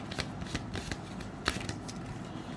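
A tarot card slides out of a deck and is shuffled and handled, with soft papery flicks and rustles in a quiet room, faint and close.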